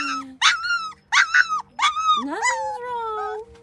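Puppies whimper and yip close up in a series of high, wavering cries that rise in pitch. The last cry stretches into a longer, drawn-out whine.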